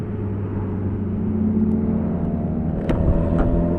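An Alfa Romeo car engine runs with a steady, smooth hum and low whir, heard from fairly close and swelling slightly toward the end, with no talking.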